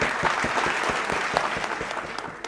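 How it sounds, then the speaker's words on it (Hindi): A seminar audience breaks into brisk, even applause, a close, continuous patter of many hands clapping with hardly any talk over it. "ज़ोरदार तालियां हो जाए इन सब के लिए"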